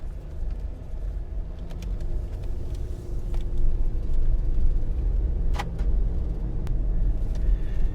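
A car on a test drive after a faulty wheel bearing that locked the brakes and set off the ABS light. Steady low road and engine rumble fills the cabin, with a few light clicks and no talking.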